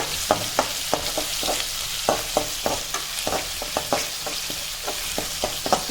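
Ground shallot paste being sautéed for puli kulambu, with steady frying sizzle and repeated sharp scraping taps of a spoon stirring the pan at a brisk, uneven rhythm, close and clear with no talking.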